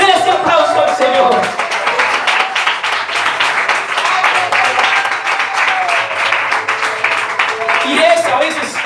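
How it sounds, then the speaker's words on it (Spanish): A church congregation applauds, loud rhythmic clapping from many people throughout, with a voice speaking over the clapping and a brief tonal sound near the start. "Denle ese aplauso al Señor."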